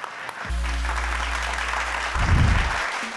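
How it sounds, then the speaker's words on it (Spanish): Audience applause at a Mexican TV variety show with a live band, a broadband burst of clapping mixed with strong low musical tones, swelling near the end. "¡Un aplauso!"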